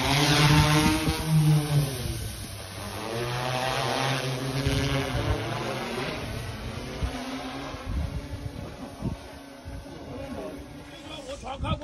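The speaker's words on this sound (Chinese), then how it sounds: "南竿无人机收到，这边起飞" A drone lifts off and flies during a coastal search-and-rescue operation in Nangan, Matsu, its thin motor whine and rushing noise running under urgent voices of rescuers talking throughout.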